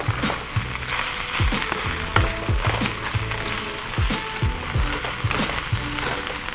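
Beef noodle stir fry with wombok cabbage is tossed in a hot pan, giving a continuous loud sizzle broken by rhythmic clanks and scrapes of a utensil on metal.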